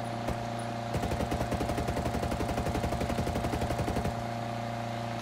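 Rapid automatic gunfire in a video game, a fast, evenly spaced burst of shots lasting about three seconds over a steady background hum, with single shots just before.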